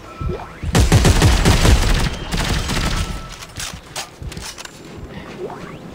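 Automatic weapon fire in the Dead Space 3 video game, rapid bursts of shots ringing out loudly for a few seconds, then thinner scattered pops and echoes with no talk over them.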